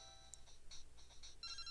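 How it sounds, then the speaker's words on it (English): Ringtone of an incoming phone call in the Pokemon Gold video game: a short run of repeated high electronic chirps, soft and close, with quiet game background beneath and no talk. "Oh, phone call from Professor Elm."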